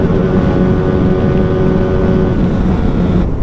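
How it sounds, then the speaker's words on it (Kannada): A Hyosung GT250R motorcycle engine holds a loud, steady, buzzing drone close by. Its pitch stays constant throughout, near the rev cut-off, and the note drops away abruptly at the very end. "RPM cut off"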